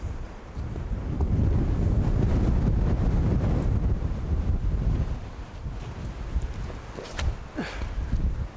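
Strong wind gusts across a disc golf course, a loud rushing roar that swells and eases in waves, with no talk over it and a few faint clicks near the end.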